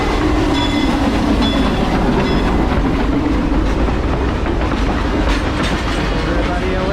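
A steam train at an 1880s-themed amusement park rolls past close by with continuous rumbling and clickety-clack from its wheels, and a voice is heard faintly.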